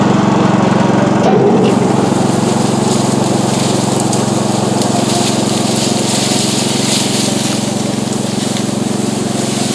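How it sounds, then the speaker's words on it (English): A small chainsaw cuts into a broken limb of a century-old Kieffer pear tree, its engine droning steadily and loudly close by for the whole stretch with no pause or talk. "work at it with the small chainsaw"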